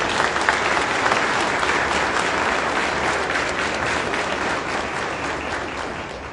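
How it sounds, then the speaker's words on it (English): Sustained audience applause at a Baltimore, Maryland police graduation and promotion ceremony, loud and dense throughout, slowly fading toward the end, with no talking over it. "please give the family, friends, and coworkers a round of applause"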